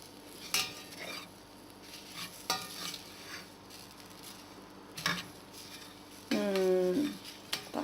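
A utensil stirs gobi chana curry in a pan, giving scattered scrapes and knocks against the metal over a soft sizzle, with a voice briefly heard.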